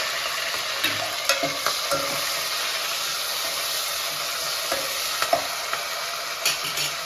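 Onions frying in a pan for a goat head curry as tomato, curry leaves and coriander are added, a steady broad sizzle with occasional stirring clicks and scrapes, close and moderately loud with no talking.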